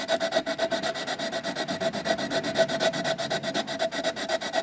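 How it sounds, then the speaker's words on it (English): A sanding block rubs back and forth along a small wooden box near a miter joint, making a fast, regular rasping scrape that is close and continuous, with no talking. "driving my sanding block parallel to the miter."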